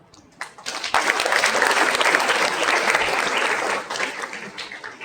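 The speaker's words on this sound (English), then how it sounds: "Let us give our achievers a big round of applause" An audience at a school felicitation ceremony for student achievers breaks into loud, sustained applause that holds steady for several seconds before tapering off near the end.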